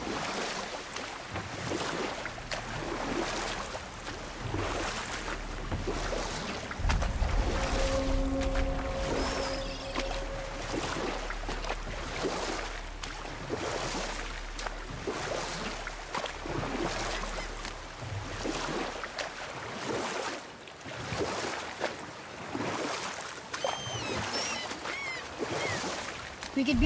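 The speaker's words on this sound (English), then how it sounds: "We could beach the boat here." Boat gliding over water in the God of War video game, rhythmic oar-like splashes and lapping water repeating steadily, with a low rumble and a brief tonal chime partway through.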